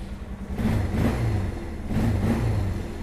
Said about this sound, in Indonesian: Saya coba starter ya.